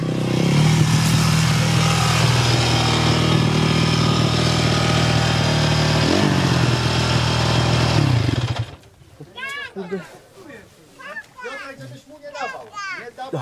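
A Yamaha motorcycle engine runs loud and steady with throttle held up for about eight seconds, then cuts off, leaving children's voices and chatter nearby.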